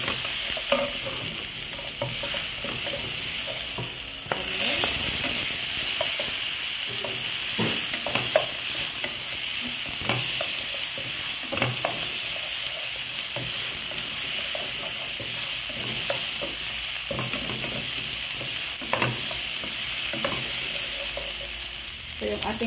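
Garlic sizzling in hot oil in a pan for pork adobo, a bright steady fry hiss broken by repeated scrapes and clinks of stirring, close and continuous without talk.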